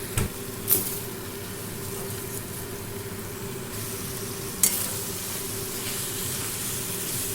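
Jujube chutney sizzles in a hot pan with continuous frying hiss, punctuated by a couple of sharp scrapes and clinks from stirring.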